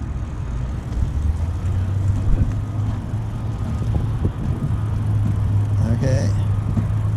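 Road traffic passing a recumbent bike ride at a stop sign, a steady vehicle drone with a low engine hum swelling and fading as cars go by.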